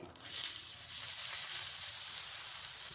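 Bread slices toast in ghee on a dosa pan with curry leaves and cumin, giving a steady, soft, close sizzle that hisses throughout with no talking.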